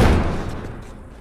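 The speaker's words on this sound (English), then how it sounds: "Barricade door." Heavy door slammed shut and barricaded in The Last of Us Remastered, a single loud, booming impact up close that decays over about a second.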